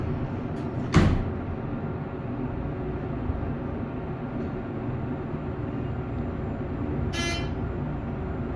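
A Thyssenkrupp hydraulic elevator door at a Hampton Inn in Westbury, NY gives a sharp thump early on, then later a brief ringing chime over a low steady hum of machinery.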